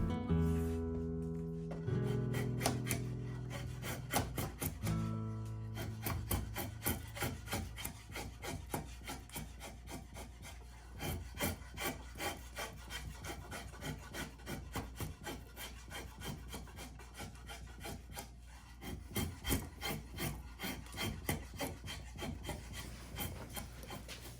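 A hand rasp scrapes rhythmically across a wooden board bow, taking the corners down to guidelines with dense, steady back-and-forth strokes, close and alone for over twenty seconds.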